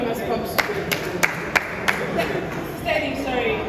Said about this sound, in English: So round of applause for him as he comes.